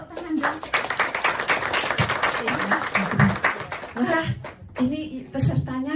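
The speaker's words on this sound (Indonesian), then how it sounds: "Boleh tepuk tangan dong." Audience at an Indonesian farm animal welfare training session claps steadily for several seconds, with voices speaking over and after the applause.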